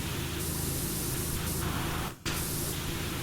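A pressure washer in the video game PowerWash Simulator 2 sprays a wide jet in a steady, fairly quiet hiss, cutting out briefly for a moment before resuming.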